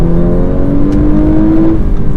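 An Audi A5 Sportback quattro engine pulls hard under acceleration on the road, a loud, steady, rising drone heard from inside the car, with no voices.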